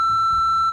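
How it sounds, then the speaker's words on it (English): A steady electronic answering-machine tone from the Nancy Drew video game, a single pure sustained beep that holds evenly before cutting off, heard alone. "After the tone, please leave your name, phone number, and a brief message."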